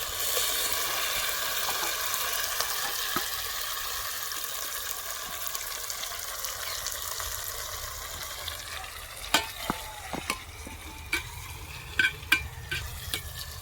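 A mashed tomato mixture with coriander and turmeric is stirred and fries in a hot pot for a village-style tomato chicken rasam, a steady sizzle under scraping, with sharper spoon knocks against the pot near the end.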